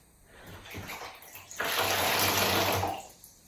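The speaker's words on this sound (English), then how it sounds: "So you want to get loads of water in" Water poured into a hole in the ground, starting as a light trickle and then becoming a loud, rushing splash for about a second and a half before it tapers off.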